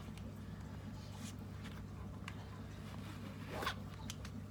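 A quick zipping scrape as a tool runs around a bicycle tyre, with a few short scratchy strokes over a low steady hum.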